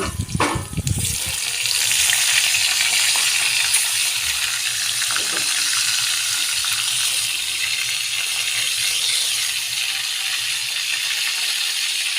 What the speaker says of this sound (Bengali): বাদবাকি মাছগুলোও একইভাবে ভেজে তুলে নেব